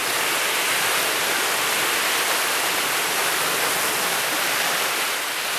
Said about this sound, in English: I get to listen to the waves all evening